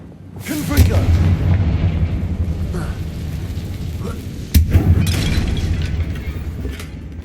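Confringo fire-blast spell cast in Hogwarts Legacy: a loud booming burst followed by a long rushing crackle, then a second sharp blast a few seconds later, over dense game ambience.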